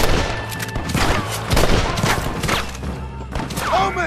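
Gunfire in the video game Red Dead Redemption, a chaotic shootout of loud overlapping shots and booming impacts, with shouting voices and other game sounds woven through.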